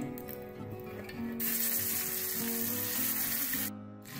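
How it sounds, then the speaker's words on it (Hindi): Marinated chicken goes into a pan with three small spoons of hot oil over a medium flame, bursting into a loud, steady hiss that sizzles for a few seconds before cutting off abruptly. "तो देखिए मैंने चिकन ऐड कर दिया इसको अब हम पकाएंगे"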